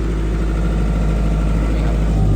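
A Denyo 45K generator, a used Japanese import, runs at a steady idle close by, its low engine drone loud and even throughout with no speech over it.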